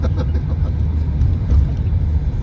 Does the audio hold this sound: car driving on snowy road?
yes